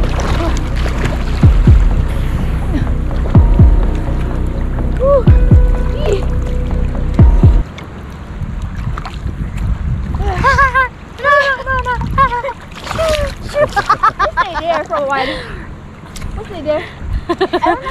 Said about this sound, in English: she's gonna use her hand paddles